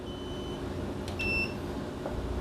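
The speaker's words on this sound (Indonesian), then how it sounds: "Buzzer ini untuk alarm suara buzzer tititnya bisa kita nonaktifkan." The alarm buzzer on a 5 kW smart inverter with a 60 A MPPT charger gives a short, thin electronic beep over steady low background hum, heard alone with no talking.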